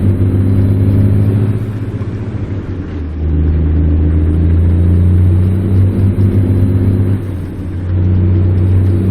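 A low-powered truck engine in American Truck Simulator drones loudly and steadily, pitch climbing and dropping as it works up through the gears, with brief dips at each shift.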